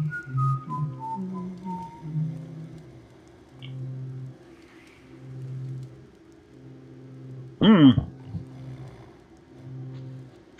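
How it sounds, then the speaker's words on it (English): A faint whistled tune of a few short descending notes drifts through the dark stealth game Thief: The Dark Project, over a low ambient hum and pulsing drone, followed later by a brief louder thud. "Who's whistling?"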